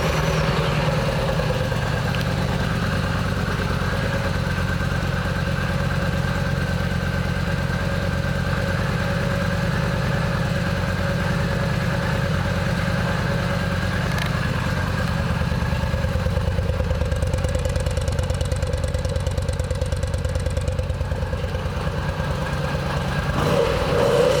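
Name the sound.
2012 Yamaha V Star 950 Tourer motorcycle engine idling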